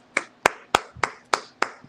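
Seven sharp, evenly spaced hand claps, close and crisp, with a steady rhythm and no other sounds between them.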